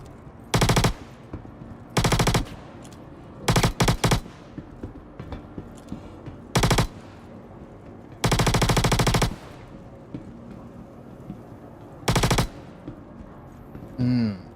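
A P8 submachine gun fires in a video game in several sharp automatic bursts of varying length, separated by quieter gaps with faint background game sounds.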